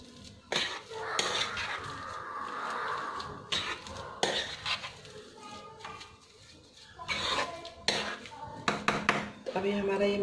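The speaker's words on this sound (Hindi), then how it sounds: "तो अभी हम इसको अच्छे से मिक्स कर लेते हैं।" Masala with lemon juice is stirred in a bowl, giving irregular clinks and scrapes of a spoon against the bowl, close and fairly loud in bursts, with a voice talking in between.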